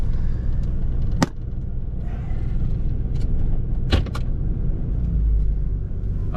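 A 1988 Toyota Land Cruiser FJ62 with about 290K miles drives along, its engine and road noise a steady, loud rumble from inside the cabin, broken by a few sharp clicks and knocks.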